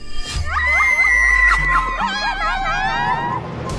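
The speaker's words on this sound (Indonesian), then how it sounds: "Aku dengar teriakan minta tolong" A woman screams for help, a long wavering high cry rising over crowd babble and background noise, loud and close, with people talking around it.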